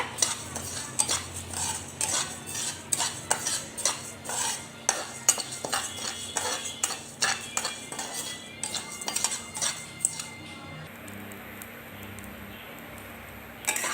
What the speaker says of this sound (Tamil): பாருங்க அரிசி நல்லா வறுத்துருச்சு